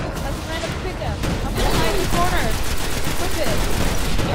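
Fusion rifle fire in the video game Destiny: rapid, dense bursts of gunfire-like shots that grow louder partway through, with players talking over them.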